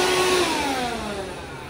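A VacLife VL106 handheld vacuum cleaner runs close by, its motor a loud steady whine whose pitch slides slowly downward as it spins down.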